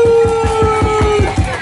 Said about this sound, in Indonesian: Tepuk tangan untuk Siva sekali lagi.